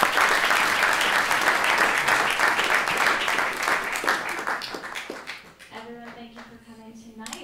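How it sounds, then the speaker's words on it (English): A large indoor audience applauds panelists and event sponsors at a forum on New York City electric vehicle rollout, dense steady clapping that thins and fades toward the end. "let's give them a warm round of applause"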